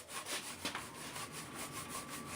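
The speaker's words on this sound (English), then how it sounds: "Then of course we have to clean it. I'm using lacquer thinner." A rag wiped with lacquer thinner rubs back and forth across the surface of a damaged fiberglass kayak paddle blade, a close, soft, rhythmic scrubbing with repeated strokes.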